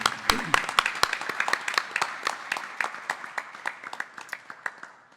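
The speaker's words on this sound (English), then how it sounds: "I would really like us to give our two special guests a special round of applause." A crowd applauds, a dense patter of many hands clapping steadily and fading slightly toward the end.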